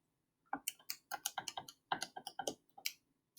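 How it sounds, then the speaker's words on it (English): Quick, irregular bursts of crisp button clicks as numbers are punched into a calculator, close and fairly quiet, with short pauses between groups of presses. "if you even tried to type that in your calculator, I'm going to try right now."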